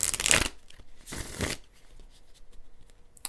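Tarot cards being shuffled by hand in short bursts, a loud riffle at the start and another around a second later, then softer card handling with no talking.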